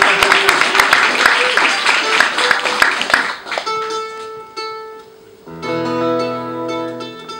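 Audience clapping at a small live music performance, a dense burst of applause for about three seconds that fades out as sustained instrument tones take over.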